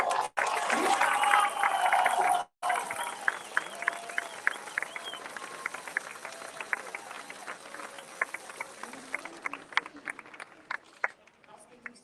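A crowd at a protest against Quebec's Bill 96 applauds, a loud burst of clapping and cheering at first, then thinning into scattered, sharper claps that trail off.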